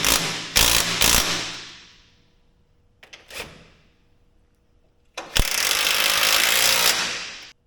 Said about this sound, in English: I'm gonna use the impact to get them most of the way